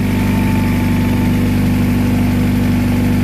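A high-mileage non-VTEC Honda Prelude H23 engine idling after a cold start, a loud, steady close drone with a constant low hum and even vibration, nothing else heard.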